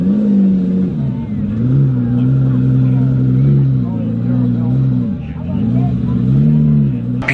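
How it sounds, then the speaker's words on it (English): A vintage V12 Lincoln drives slowly past with a loud, steady engine hum that rises and falls with light throttle, over background crowd chatter. "Beautiful V12 Lincoln."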